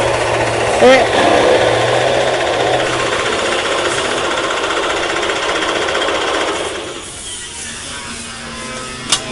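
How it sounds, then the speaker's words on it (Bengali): A D6 model chaff cutter machine chops straw and grass with a loud, rapid, steady mechanical hammering that eases off near the end, with a voice talking over it. "আমাদের ডি সিক্স মডেলের যে মেশিন মেশিনটা তার খড় কাটা হচ্ছে"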